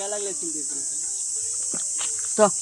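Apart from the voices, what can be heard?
crickets chirping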